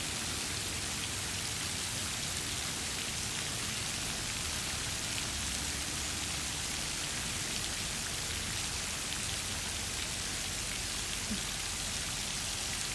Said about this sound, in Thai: ฟังเสียงน้ำ สวยดี นะคะ